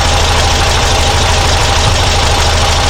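An engine fitted with Dellorto DRLA carburetors idles steadily and loudly nearby, a dense continuous rumble with a faint knocking undertone.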